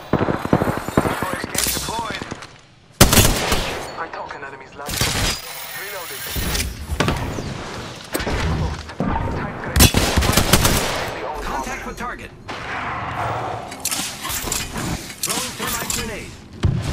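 Rapid bursts of gunfire in the Apex Legends battle royale game, loud automatic fire and single shots repeating through the stretch, with game effects and a voice talking over the action.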